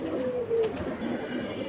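Baga pigeons, a pair kept for flying, give a soft low coo with a short tonal call near the start, then steady murmuring, heard close and with no talk over it.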